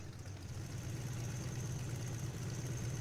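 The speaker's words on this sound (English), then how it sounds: "Engine's nice and running." A Boeing-Stearman Model 75 biplane engine idles steadily in a flight simulator, a low continuous drone with a faint high whine, alone and unchanging throughout.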